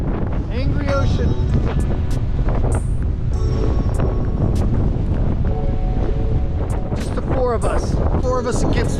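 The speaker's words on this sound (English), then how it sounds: "Angry ocean." Strong wind buffets the microphone as angry ocean waves crash during a storm in a coastal city, a loud continuous roar with voices breaking through.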